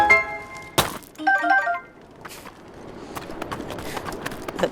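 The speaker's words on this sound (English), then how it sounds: "Those footsteps." Footsteps of a character in Zelda: Breath of the Wild, heard as a sharp thunk followed by a run of light, rapid steps, with brief chime-like game tones early on.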